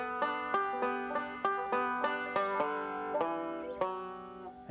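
A five-string banjo plays a first-ending passage at a slow tempo, a steady run of bright, ringing plucked notes, close-miked and fairly quiet, with no voices.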